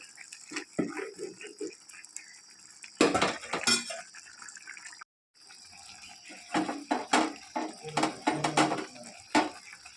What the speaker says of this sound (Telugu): అప్పుడు నేతిలో వేయించుకున్న జీడిపప్పు దీనిపైన వేసుకొని కొంచెం ఇలా కలుపుకోవాలి